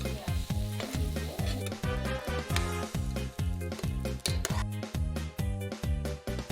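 Julienned carrots fry in oil in a skillet, giving a steady sizzle beneath loud, rhythmic background music with a pulsing bass beat.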